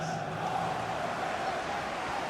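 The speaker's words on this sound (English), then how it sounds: "Just listen to the crowd, Derek, urging their team on." Simulated football stadium crowd in FIFA 21 during a League Cup fourth-round match, a steady roaring wash of cheering that holds evenly throughout without distinct peaks.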